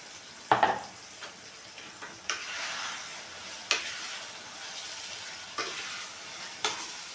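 Prawns tossed into a pan of cooked-down onions, green chillies and tomatoes, frying with a steady sizzle while a utensil stirs, giving several sharp scraping clacks against the pan at intervals.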